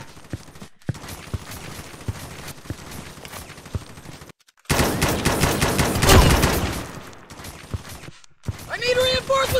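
Gunfire in the mobile shooter WarStrike FPS, bursts of rapid shots and loud clustered volleys with short silent gaps, the densest firing near the middle, over a busy game soundscape.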